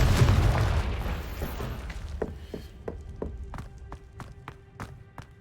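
Confringo fire spell explosions in Hogwarts Legacy, a loud booming burst at the start that fades into a rumbling tail, followed by a series of sharp, spaced pops and cracks.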